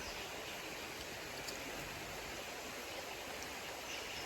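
A river stream flows with a steady, even rush of water throughout, faint but constant.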